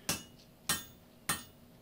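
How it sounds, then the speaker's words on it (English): A 4-pound peen hammer with a 3/4-inch rounded peen strikes hot steel being forged into a throwing axe, ringing out in three sharp, evenly spaced metallic blows that each decay quickly. "This is about a 4-pound hammer with a peen that's about 3/4 of an inch with a good radius on it."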